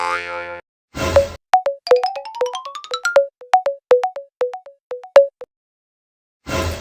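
Electronic telephone tones: a run of rapid beeps and rising blips like keypad dialing, framed by short bursts of noise at start and end.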